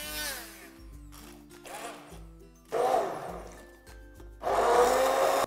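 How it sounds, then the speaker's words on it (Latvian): Stick blender pureeing tomatoes for gazpacho, running in several separate bursts with short pauses between them, loud and close, the last two bursts strongest. "Šo visu ņēmu ar šādu tipu blenderu."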